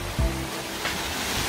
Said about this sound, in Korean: 이곳이 바로 육담 폭포입니다.